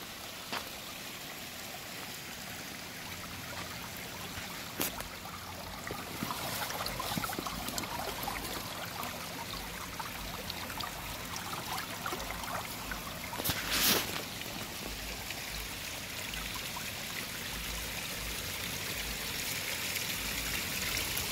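Water spills steadily through a rock-built backyard waterfall, a constant close wash of splashing and trickling with no voices and only small flickers of louder drips.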